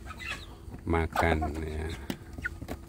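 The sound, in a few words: free-range village chicks clucking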